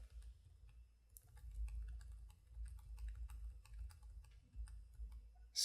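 Someone types on a computer keyboard, a quiet, irregular patter of key clicks in a hushed room over a faint low hum.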